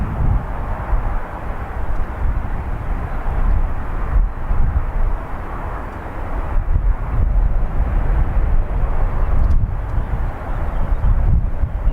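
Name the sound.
Boeing 777 jet departing Dublin Airport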